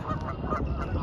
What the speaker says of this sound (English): Look at all those geese.